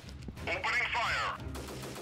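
A rapid burst of automatic gunfire in the guerrilla warfare video game Freeman: Guerrilla Warfare, crackling for about a second in the middle, mixed with voices.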